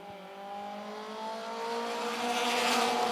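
Race cars roar together around the oval at Mt. Lawn Speedway, a steady engine drone that swells louder toward the end, heard without talk.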